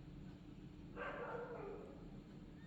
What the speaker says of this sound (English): There are a lot of stray dogs.